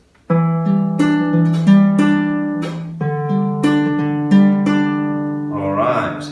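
Acoustic guitar picks out notes in a steady pattern, alternating between two chord shapes from a song, clear and close with no speech.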